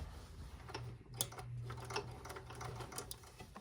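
A drapery workroom sewing machine is turned slowly by hand over a thick folded seam, producing faint, uneven ticks and soft mechanical clicks over a low hum, with no talk.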